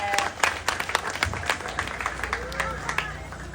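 Audience applause at a pride pageant during a national costume segment, a scattered patter of claps with crowd noise and an occasional voice over a steady hall murmur.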